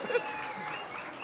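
Audience applause for Chuck at a conference, a short burst of clapping from a crowd that swells briefly near the start and then holds at a steady moderate level.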